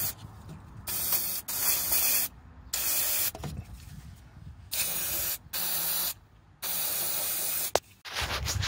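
Lubricant sprays onto the brake line fittings at the brake bias valve of a car in a series of close hissing bursts of about a second each, separated by short silences, with no voices.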